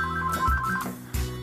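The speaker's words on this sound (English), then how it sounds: "my house phone is ringing" A house phone rings in a kitchen while corn is being cooked: one loud, close electronic ring tone with a short pause before the next ring begins.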